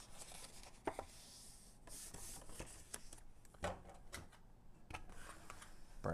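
A paper card fold for a Christmas diorama card is burnished with faint, close rubbing and scraping strokes, with a few soft taps in between.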